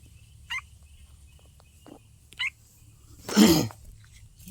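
A bird calls outdoors: a few short, sharp cries spaced apart, then one louder, rougher gobbling burst close by against a quiet background.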